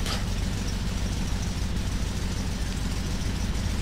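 The radial engine of a WACO YMF-5 biplane in Flight Simulator X runs up as the throttle opens, a steady, loud, low droning roar that holds evenly with no talk over it.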